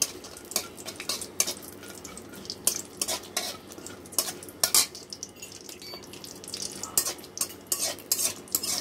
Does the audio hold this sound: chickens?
no